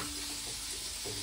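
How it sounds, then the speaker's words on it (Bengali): Food cooking in a pan in a home kitchen, a steady close sizzle and frying hiss running through the whole short moment with no talk. "এখন দিদি রান্না করছে।"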